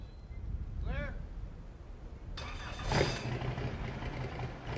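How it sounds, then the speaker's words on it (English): A helicopter engine starts up with its tail rotor: a short rising whine, then an abrupt roar that builds and holds steady at close range. "The pilot can now start the engine."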